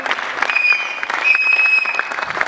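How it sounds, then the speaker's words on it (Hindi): A large audience in an auditorium at IIT Guwahati claps loudly and continuously for a poet. Faint whistles or tones sound above the dense, steady applause. "बहुत जोरदार तालियों से बस स्वागत हो जाए लखनवी साहब का"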